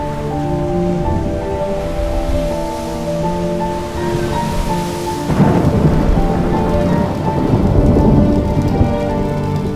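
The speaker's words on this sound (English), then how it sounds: "Heavy rain poured down, hitting the front windshield hard." Heavy rain drums hard and continuously on a helicopter's front windshield during a flight along the Taitung coast, with a steady droning engine hum underneath that grows louder as the downpour intensifies.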